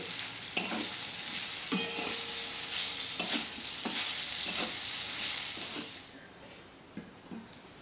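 Mango pieces fry in a pan with a steady close sizzle, broken by scraping stirring strokes, before the sizzle quiets and a few soft knocks follow.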